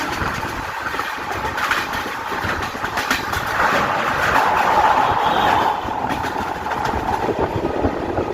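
A crowded local train rolls into Naihati station, a loud continuous rumble with wheel clatter and a brief metallic squeal midway, close by and without talk.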